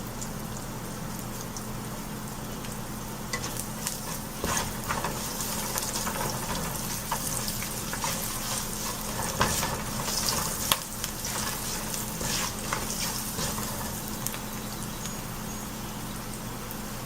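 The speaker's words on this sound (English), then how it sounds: "So I will let the garlic and the cumin seed get little bit brown" Garlic and cumin seeds frying in hot oil in a pan, a steady close sizzle with crackling pops and occasional stirring scrapes running throughout, no voices.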